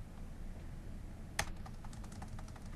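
Quick keystrokes on a computer keyboard, one sharper key press followed by a few light taps, faint and close in a quiet room with no talking.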